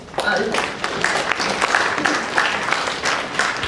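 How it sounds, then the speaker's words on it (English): A high school audience at a panel discussion on political empathy claps together, a dense burst of applause at fairly close range that holds steady with small swells throughout. "We like to clap here."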